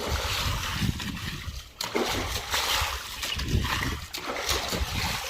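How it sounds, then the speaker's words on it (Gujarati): Water is splashed and sprinkled over soil in a farm field, a continuous close wet splattering with sloshing surges and brief pauses, fairly loud throughout. "પાણી છાંટવાની નવી ટેકનિક તમને બતાવી."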